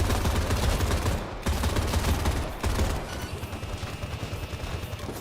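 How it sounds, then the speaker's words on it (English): Dense, continuous automatic gunfire in a video game rattles close and loud, with bursts stopping briefly before resuming, and the shots seem to come from above. "The bullets come from above."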